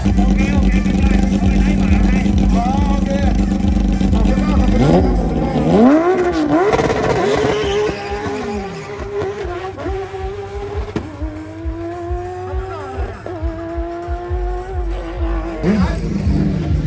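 A Porsche GT3 Cup and other race cars accelerate hard at a Bangkok car event, engine notes climbing and overlapping in a loud, continuous roar with shifting pitch, while voices talk over the din.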